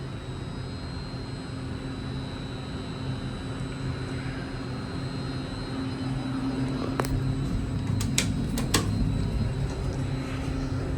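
A fan whirs steadily inside a hydraulic elevator cab, a constant broadband hum with a faint tonal whine, joined near the end by a few sharp clicks and taps.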